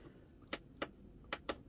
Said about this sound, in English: Let me turn this light on. So when I got to click three times.